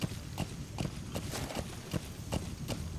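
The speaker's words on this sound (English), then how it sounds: "Maybe if they see this, it's just a random horse walking along." A saddled horse with reins walks along in Metal Gear Solid V: The Phantom Pain, its hooves making a steady, evenly spaced clip-clop of about eight footfalls. The steps sound fairly close, over a low ambient bed, with no voices.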